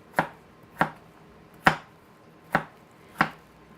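A knife chops root vegetables for home fries on a cutting board, five sharp, separate thunks spaced about a second apart, close and clear with no talk.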